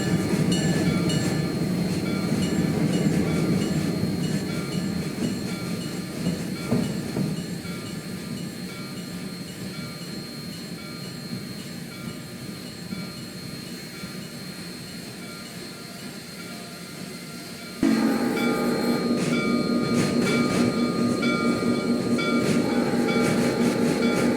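Saratoga & Western 809 steam excursion train running at Evergreen, a loud continuous rumble and rolling rail noise that shifts abruptly to a brighter, busier roar partway through, with no talk.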